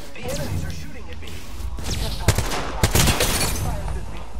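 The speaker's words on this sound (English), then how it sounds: "The enemies are shooting at me." Enemy gunfire in the battle-royale shooter Apex Legends, with a few sharp shots and short bursts cracking over steady game noise and a voice talking.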